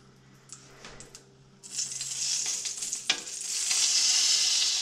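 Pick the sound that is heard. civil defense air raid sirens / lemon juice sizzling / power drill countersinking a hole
lemon juice sizzling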